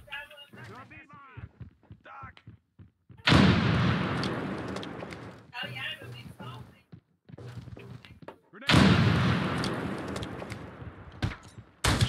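A frag grenade explodes and gunfire rings out in the video game America's Army: Proving Grounds, two loud booming blasts with sustained roaring decay, set between bursts of team voice chat.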